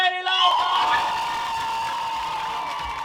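Studio audience at an Estonian comedy gong show crowd erupts in loud cheering, whoops and shouts as the winner is announced, a sustained roar filling the room that fades slightly but holds steady to the end.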